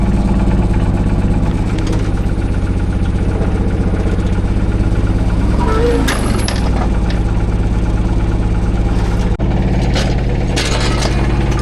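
An outboard boat engine runs steadily at idle while being fitted onto a boat, a loud continuous close-up drone with a brief clank partway through and no talking.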